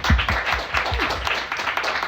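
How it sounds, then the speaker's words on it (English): Audience applause for food writer Katie Parla at the Archestratus bookstore, a fairly close, lively patter of hands clapping, with a few heavier low thumps near the start and murmuring voices mixed in. "Let's all give her a big round of applause."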